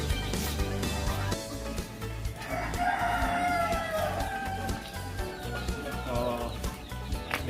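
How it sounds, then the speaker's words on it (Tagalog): Free-range backyard chickens cluck and chatter with a rooster crowing clearly in the middle, set against steady outdoor ambience and low rumbling wind. "Dito yung mga alaga ko mga chicken. Yung mga naka-range."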